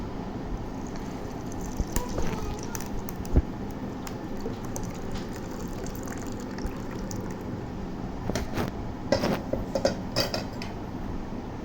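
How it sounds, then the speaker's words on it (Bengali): Pudding batter poured over lachha semai in a dish, a soft wet trickle and squish mixed with light clinks of utensils and cookware, close and continuous without talk. "তারপরে এর উপরে দিয়ে দিচ্ছে লাচ্ছা শ্যামাই এখন এই ব্যাটারটা দিয়ে দিবে"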